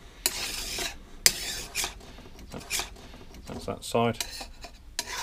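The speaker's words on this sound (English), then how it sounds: "all you're looking to do is to remove the burrs off of the edge of the bar. Keep the file as flat as you can." A flat file scrapes burrs off the edge of a Stihl chainsaw bar in irregular, close rasping strokes mixed with clanks and knocks. Someone speaks briefly over the work.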